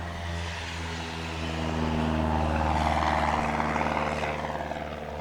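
Propeller plane droning close by near a runway, a steady buzzing engine hum that swells louder midway and then eases slightly, with no voices over it.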